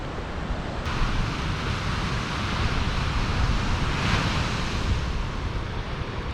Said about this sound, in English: Alright, seriously windy morning today.